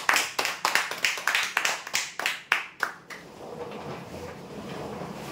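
Claps for prize winners at a lucky draw come as a slow series of about a dozen loud, evenly spaced strikes, then stop and leave faint room noise.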